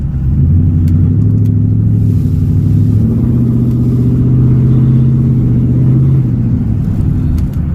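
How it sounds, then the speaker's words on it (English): A Lincoln truck's 5.0 engine, with a slight ticking fault, runs loud and close as the throttle is pressed, giving a steady low rumble that swells gently, with faint ticking barely showing through. "I'm pretty sure y'all can hear that ticking once I get on the gas here."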